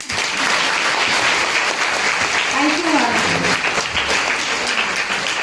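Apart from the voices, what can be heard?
audience applause at a motivational lecture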